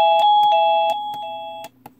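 An InJoy wireless doorbell's plug-in chime ringing a short electronic melody: a series of bright, evenly spaced tones with a steady hum underneath, loud and clear, ending abruptly with one faint final blip.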